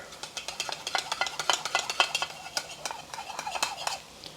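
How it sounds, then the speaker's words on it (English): A spoon stirs beef and broccoli stir fry with a cornstarch slurry in a pan, making quick, rhythmic scrapes and taps against the metal over a faint sizzle, close and clear. "Remember to give it a good stir."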